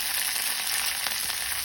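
Tempering for raw mango rice sizzles in hot oil: urad dal, mustard seeds, cumin, dried red chillies and green chillies. The bright, steady frying hiss is close, with a couple of faint stirring clicks and no speech.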